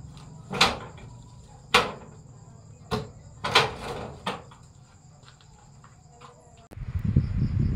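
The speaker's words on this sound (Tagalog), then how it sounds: "Pukpuk pa itong pintuan natin." Five sharp knocks strike a door at uneven intervals, loud and close, over a faint steady chirp of crickets at night, followed by a burst of rustling noise.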